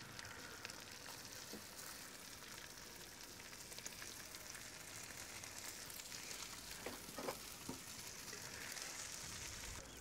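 Slices of pancetta and a halibut fillet crisp in a frying pan, giving a soft, steady sizzle and fine crackle throughout, fairly quiet and uninterrupted.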